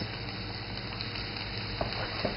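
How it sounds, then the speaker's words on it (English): Sliced white mushrooms and asparagus fry in a pan for an omelet, giving a steady close-up sizzle with a couple of light stirring taps and no talk. "So I like to let these cook down a little bit"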